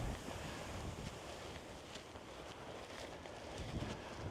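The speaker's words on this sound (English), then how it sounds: "This wind's making it really, really slow going" Strong wind buffets a hiker carrying a heavy backpack on exposed open ground, a loud constant roar and rumble of wind noise against the microphone with no clear pauses.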